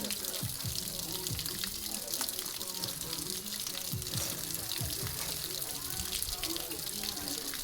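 Steady gushing water runs without pause, like a tap left open, with a voice talking faintly over it.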